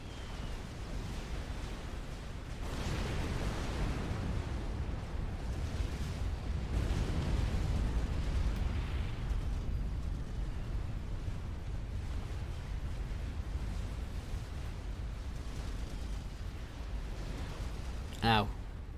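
A commander unit blowing up in the video game Supreme Commander: Forged Alliance after a strategic-bomber strike, heard as a low rumbling explosion that swells and fades over several seconds while a commentator keeps talking.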